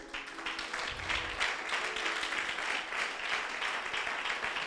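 A church congregation applauds the Lord with sustained, dense clapping that fills the space evenly at moderate volume, with a few faint voices mixed in.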